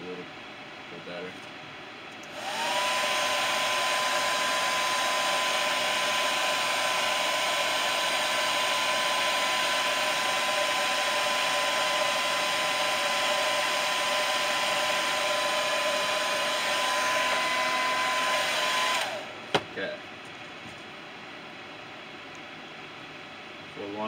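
A hair dryer blows on a freshly painted shad crankbait lure with a loud, steady, whooshing hum that starts after a brief pause and runs for about seventeen seconds before cutting off.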